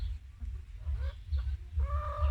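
A rooster and hen cluck softly nearby in short, scattered calls, ending with a longer drawn-out hen call over a low rumbling background.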